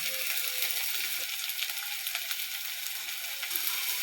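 Greens with turmeric sizzle and fry in hot oil in a pan, a steady bright crackle, close and continuous, with faint scrapes of stirring.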